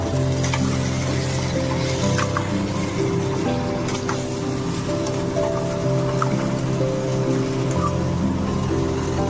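Chicken pieces fry with meat masala in a pan, a loud continuous sizzle close up, with a low hum beneath and occasional sharp crackles; no talking.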